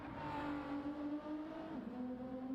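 A BMW race car in a racing video game pulls out of the pit lane, its engine droning steadily with a sustained tonal hum that shifts pitch slightly partway through, fairly loud and continuous with no talk.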